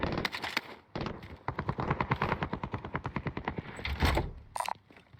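Assault rifle fire in Call of Duty Modern Warfare: a sustained rapid automatic burst of evenly spaced shots, close and loud, followed by a short pause and a few more shots.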